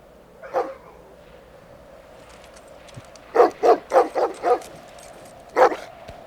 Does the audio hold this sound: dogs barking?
yes